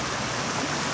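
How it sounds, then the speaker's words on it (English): Fast water pours over a weir in a river blocked by flood debris, a steady, dense rushing roar that fills the whole second without pause. "You can hear the sound of the flow."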